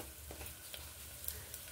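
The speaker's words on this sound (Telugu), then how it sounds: "కొంచెం ఇంగు వేసుకుందామండి." Asafoetida hitting hot oil in a pressure cooker gives a faint, steady sizzle with a few small crackles, quiet and close, with no talking.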